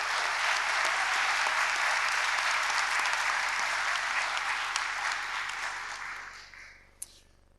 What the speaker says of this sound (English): You guys deserve a round of applause right now for that.